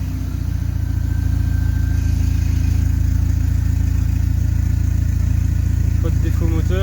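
Audi A4 B8 2.0 TDI diesel engine fitted with only a downpipe exhaust starting up and settling into a loud, steady, rough low rumble, close by, with no talk.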